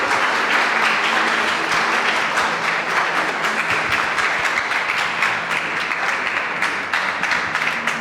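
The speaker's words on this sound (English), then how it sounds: "Let's give them a great big hand clap of praise." Sustained applause from a crowd as people are called to the stage at a fellowship event, many hands clapping in a thick, even roar that holds steady for about eight seconds.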